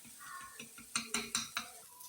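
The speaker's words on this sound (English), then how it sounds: "So I'm gonna mix the egg and the rice together, but I need to stir the rice nicely" Spoon scraping and clinking against a pan while stirring scrambled egg into rice for fried rice; a series of sharp, close metallic taps and scrapes at an uneven rhythm, several louder knocks in the middle, no talking.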